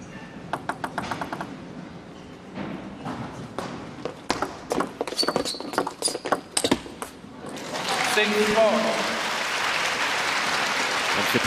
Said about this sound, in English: Fans wanting to give their support.